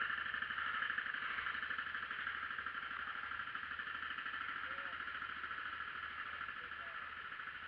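Antique Massey 10 tractor engine idling at a farm days display, a faint steady low chugging rhythm running continuously under a background hum.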